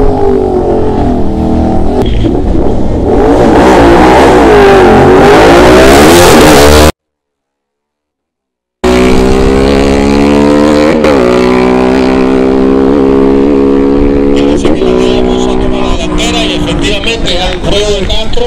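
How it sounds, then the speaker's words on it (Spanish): A Suzuki Hayabusa 1340 with an Akrapovič exhaust races a Ducati Diavel in a Barranquilla street drag race, engines revving loud and close with rising pitch sweeps, broken by a short silent gap. "Hayabusa 1340 contra Ducati Diavel."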